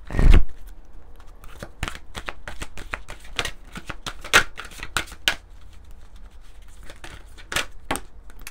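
An oracle card deck being shuffled by hand, a run of crisp riffling snaps and flutters in irregular bursts, close and fairly loud, with no voices.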